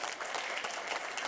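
Applause from an audience welcoming a guest at a polio vaccination campaign launch, a dense steady clatter of many hands clapping throughout, fairly close and alone with no voices.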